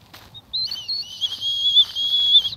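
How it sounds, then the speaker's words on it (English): Whistle on a survival bracelet blown outdoors, a shrill high tone starting with a brief chirp, then a sustained, wavering blast lasting about two seconds, fairly close and loud. "So now if I get lost or if I get maimed, I can just whistle for help."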